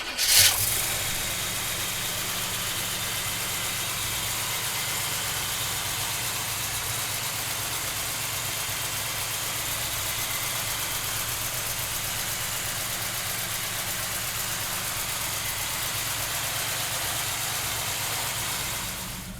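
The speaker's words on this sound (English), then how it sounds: "we'll fire this Chevelle up" A 1970 Chevrolet Chevelle with a 454 V8 cranks and fires, then settles into a steady, rumbling idle that holds evenly for the rest of the clip, recorded close to the engine with no talk.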